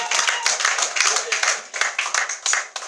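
A church congregation clapping to acclaim the Lord, steady rhythmic claps filling the room and mixed with loud voices.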